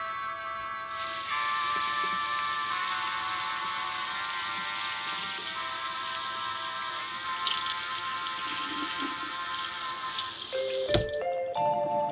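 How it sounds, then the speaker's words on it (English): Water poured onto newly repotted houseplants in a ceramic pot, a steady trickling and splashing stream running for several seconds close by, ending in a few scattered drips and a brief clink. "Let's go ahead and water them in."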